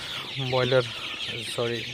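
Sonali super hybrid chickens on a farm at night give a few close, fairly loud clucks and calls in two short bursts, with a quieter stretch between them.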